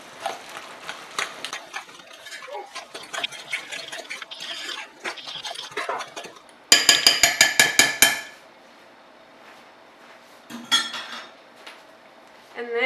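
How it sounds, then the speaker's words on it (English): Utensil clanking and scraping around a mixing bowl while zucchini bread batter is stirred, with a fast burst of sharp metallic taps midway and scattered knocks after, close and fairly loud. "you want to mix all of this super good"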